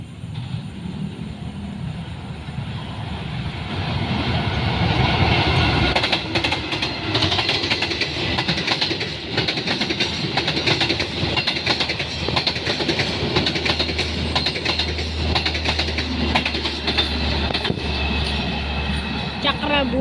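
A long-distance passenger train rolls past at night in Tambun, West Java, a sustained loud rumble with rhythmic clattering of wheels over rail joints and a low engine drone building toward the end.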